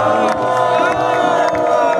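A large crowd cheers and shouts loudly at a Congolese political gathering, a continuous roar of voices and whoops with occasional sharper peaks, sustained without pause.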